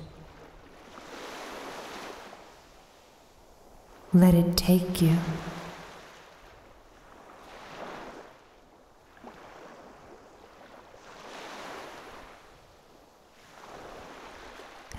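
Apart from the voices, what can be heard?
ocean waves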